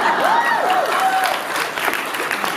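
An audience claps loudly and continuously at a live storytelling event, a dense close wash of applause with faint voices and whoops mixed in.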